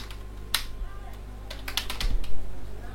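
Computer keyboard typing as a search is entered into a search bar: a short burst of close, crisp key clicks in an uneven rhythm that build into a quick cluster near the end, with no speech.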